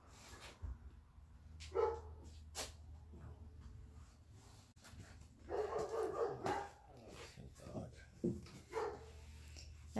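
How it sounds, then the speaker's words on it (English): A dog barks several times at a distance, short sharp yaps spaced out over a steady low hum while people talk nearby during restoration work on a 1975 Chevy Caprice convertible top. "That's my dog barking."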